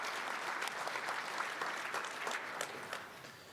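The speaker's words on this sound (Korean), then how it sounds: "Once again, grand applause for Mr." Audience applause at a 2022 year-end Korea–US friendship evening gala honoring President Hwang, a steady dense clapping from a full room, moderately distant and sustained without a break.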